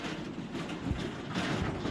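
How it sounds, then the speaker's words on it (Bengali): Tista Express train pulling away on the Dhaka to Mymensingh line, a steady rumble with low rolling thumps and broadband rail noise throughout, no voices. "এরপরেই ট্রেন ছেড়ে দিছে"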